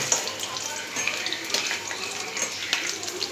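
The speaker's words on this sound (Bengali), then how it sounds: "দেখুন আলুটাকে হালকা করে ভেজে নিয়েছি, এবার তুলে নেবো আলুটাকে।" Potatoes frying lightly in hot oil, a steady close crackling sizzle with brief spattering pops throughout and no talk.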